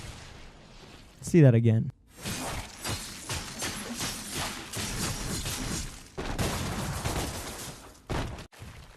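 Rapid ricochet gunfire from the twin pistols Ebony and Ivory in the action game DmC: Devil May Cry, a dense clatter of shots and impacts over steady combat noise and a narrating voice.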